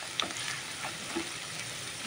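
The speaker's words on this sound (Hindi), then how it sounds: "सगळो कांदो पियाव घालपाचो आनी गोल्डन ब्रावन करपाचो" Onion fries in a pan, cooking until golden brown, with a steady soft sizzle and a few faint clinks of stirring underneath, heard alone without voices.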